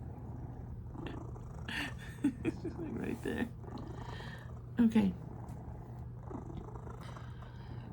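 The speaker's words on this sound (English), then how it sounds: "It's very loud purring." A cat purrs steadily and close, a low rumbling drone throughout, while a person speaks a few brief words over it.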